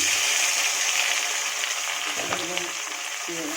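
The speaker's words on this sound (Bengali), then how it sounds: "এবার ওই তেলেই গোটা গরম মশলা, শুকনো লঙ্কা আর সার জিরে দিয়ে দিলাম" Whole garam masala, dried red chillies and cumin seeds dropped into hot oil left from frying chicken pakoras for chilli chicken, a close, crackling sizzle that fades slightly over a few seconds.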